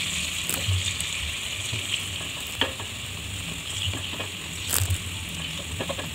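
Fermented cassava tape filled with palm sugar fries in hot oil, a steady, dense sizzle with bright crackling hiss and occasional stirring clatters, close and continuous without any talk.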